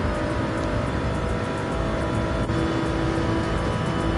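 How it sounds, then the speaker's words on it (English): Onboard engine roar of a race car in Gran Turismo 7 during a six-hour endurance event at Spa, a loud, steady drone with constant revving that continues unbroken throughout. "these cars are pretty loud when you're on board"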